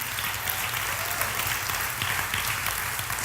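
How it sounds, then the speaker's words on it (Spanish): Church congregation applauding during a bilingual Spanish-English praise service, continuous moderate clapping filling the room at a steady level with no voices on top. "Dar un fuerte aplauso"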